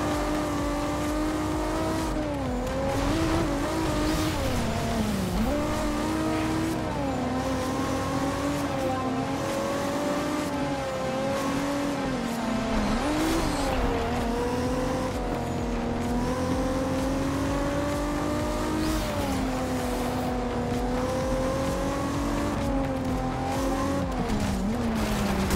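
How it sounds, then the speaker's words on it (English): Engine of a 1998 car in the Forza Horizon 2 racing game, roaring continuously with shifting revs and tire squeal through turns, loud and steady throughout with no talking. "This car is unbelievably fast."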